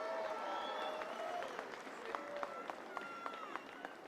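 Crowd noise in an athletics stadium at the Pacific Mini Games, a steady broad roar of spectators with scattered whistles and shouts running throughout, loud and continuous, with a commentator's voice over the top.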